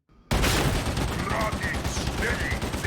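An Ogryn's heavy machine gun in Warhammer 40,000: Darktide opens up after a brief quiet moment, a loud sustained stream of rapid, thudding shots rattling on continuously to the end.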